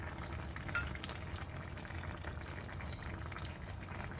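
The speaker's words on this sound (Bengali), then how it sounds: "এখানে দেখছো ধুন্দুল থেকে বেশ খানিকটা জল বেরিয়েছে, তারপরও আমি হালকা একটু জল অ্যাড করলাম" Ridge gourd vegetable curry simmers in a pan after a little water is added, giving a steady soft bubbling and sizzling throughout.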